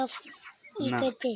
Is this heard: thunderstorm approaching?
no